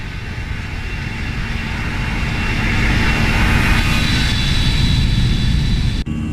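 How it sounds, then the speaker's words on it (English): Loud, sustained jet roar of an Airbus A320 with CFM engines sweeping past in a flight simulator, swelling broadly and holding steady before cutting off abruptly near the end, with no talk over it. "Oh, man. Another flyby."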